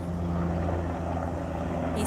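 An airplane passes overhead outdoors, a steady broad low roar that fills the clip, with no talk over it.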